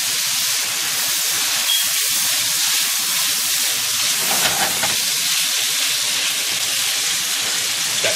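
Garlic fries in hot bacon grease with a steady, bright sizzle and hiss that stays loud and close throughout, briefly swelling with a few pops midway, and no one talks over it.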